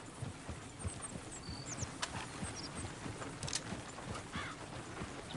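Horse hooves clip-clopping on the ground in Red Dead Redemption 2, a quiet, steady run of sharp hoof knocks with a few faint higher chirps over a low outdoor background.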